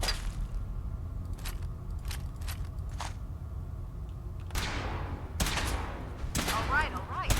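Gunfire in Fallout 4 plays as several sharp, separate bursts against a steady background hum. Denser firing clusters toward the end, and a voice speaks intermittently.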